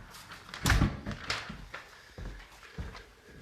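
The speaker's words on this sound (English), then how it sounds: "Actually, let me close the door." An interior door in a house closes, with a soft thud near the start followed by quieter knocks and handling sounds nearby in a quiet room.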